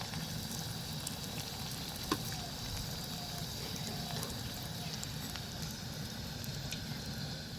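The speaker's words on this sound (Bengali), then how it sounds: "মিষ্টিটা এক পাঁচটা ভাজা হয়ে গেছে এবার আমি উল্টে পাল্টে ভেজে নেব" Sweets made from bread frying in hot oil and being turned over, a constant close hiss and crackle with an occasional faint knock of the utensil.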